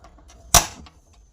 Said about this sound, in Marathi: आता आपण गॅस पेटवूया।